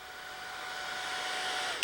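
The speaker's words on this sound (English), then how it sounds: "Heat them with a hairdryer." A hair dryer blows steadily at close range, heating adhesive stickers on a wooden SIG model airplane; a continuous, slightly rising whine and whoosh with no talking.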